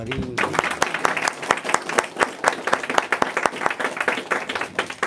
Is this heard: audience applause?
yes